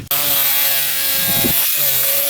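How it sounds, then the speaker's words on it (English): A hacksaw blade is dragged through car seat upholstery, giving a continuous close rasping scrape with a steady droning tone and a brief pause near the end. "You can also use a hacksaw blade. That's what I'm doing here."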